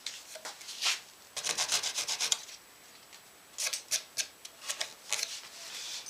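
A file rasping a bevel onto a thin guitar head plate, heard as quiet, close, rhythmic strokes in two bursts with a pause between them.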